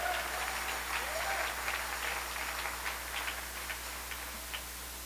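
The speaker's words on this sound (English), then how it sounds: "And let's give them a round of applause because they are really fantastic." Audience applause for a choir at a criminal justice and re-entry reform event, a moderately faint crowd clapping that slowly tapers off, with a steady low hum underneath.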